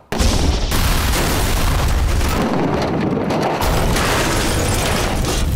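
A staged car explosion for a Breaking Bad stunt, with a mortar blasting the trunk off to the left and a fireball rolling toward the camera: a huge, sustained roar of blast and burning that fills the whole clip.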